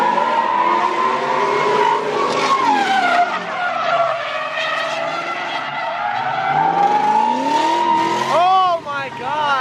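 Tires squeal loudly and continuously as a Trans Am drifts, heard from inside the car, with the engine's pitch rising and falling beneath the screech.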